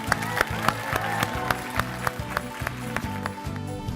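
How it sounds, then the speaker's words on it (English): Workshop audience applauding after honouring award winner Brenda Chapman, a steady dense clapping carried over a loud musical backdrop with regular percussive hits, sustained throughout. "Can we give them a big round of applause?"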